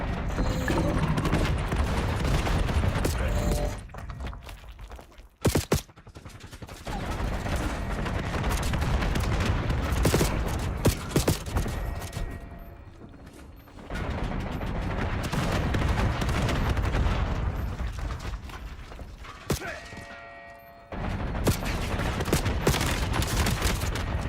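Heavy gunfire at a VTOL aircraft in a video game: dense, loud volleys of rapid shots and booms roll on for long stretches, broken by a few short pauses.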